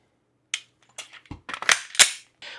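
Sharp metallic clicks and clacks from handling a pistol during a dummy-round speed reload drill, slide locking back and magazines changing, a series of close, irregular mechanical snaps with no talking.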